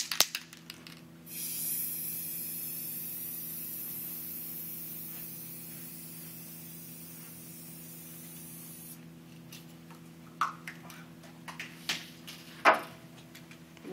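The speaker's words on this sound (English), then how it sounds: "And now I'm going to spray this on." Liquid hot wax sprayed onto skis from an Irox spray can, a long steady close hiss lasting several seconds, followed by clicks and handling knocks.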